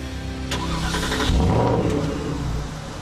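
A Porsche Cayenne with a performance-upgraded 4.8-liter V8 drives past, its engine rumbling steadily and swelling loudly near the middle before easing off, with no talking.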